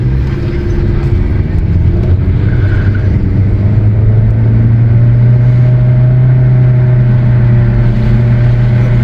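A 2019 Honda Accord with an engine overboost fault drives a road test, its engine droning steadily and rising in pitch as it accelerates, close up inside the cabin with no talk.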